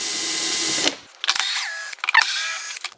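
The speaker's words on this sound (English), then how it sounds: "now let's remove the screws" Screws being driven out of an electric unicycle during a teardown with a power drill, in short close bursts of whirring and ratcheting separated by brief pauses.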